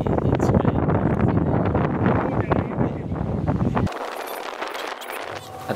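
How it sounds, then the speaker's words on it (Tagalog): Strong, gusty wind in Santorini, Greece buffets the microphone with heavy low rumble, easing somewhat near the end. "napakalakas ng hangin. Napakalakas ng hangin dito"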